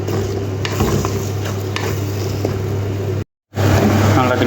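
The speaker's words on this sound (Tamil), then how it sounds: "எல்லா முட்டையும் ஊற்றி வச்சு நல்லா வதக்கிக்குவோம்" Eggs for egg bhurji being stir-fried in a pan, a steady sizzle with scraping stir strokes over a low hum, cut by a brief dropout near the end.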